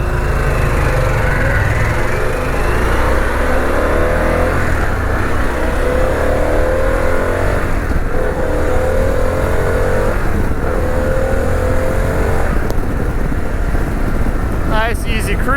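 A Harley-Davidson Pan America motorcycle cruises in fifth gear, its engine droning steadily and loudly throughout, mixed with constant wind rush.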